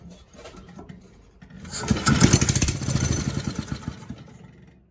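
An old JAP 2A engine pulled from a scrapyard coughs and briefly catches, firing in a rapid burst of uneven pops that swell loudly and then fade out, close by with no talking.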